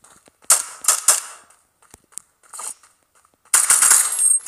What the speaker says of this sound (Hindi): ये बिल्कुल फास्ट शॉट फायरिंग कर रही है